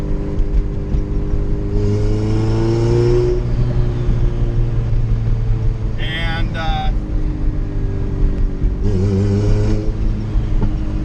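A Honda car engine with an oil pressure problem hums steadily and rises in short revving bursts as the gas is pressed, heard from close inside, with a person talking over it.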